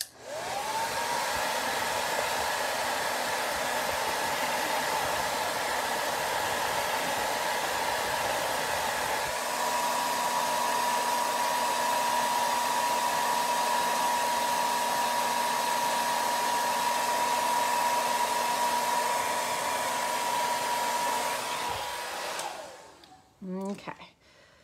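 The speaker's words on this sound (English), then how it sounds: "I'm turning on blow dryer again" A handheld blow dryer runs steadily for over twenty seconds to dry acrylic paint on a rock, a loud continuous whine and rush that cuts off near the end with a few clicks.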